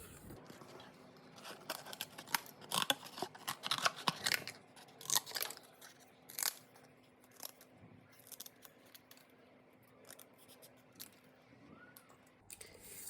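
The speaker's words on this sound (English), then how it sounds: "or you can just sort of cut freely from your cardboard" Large art scissors snipping through cardboard while cutting out shapes for a flat sculpture project, a run of close, crisp crunching cuts that thins into sparse snips before a final cut.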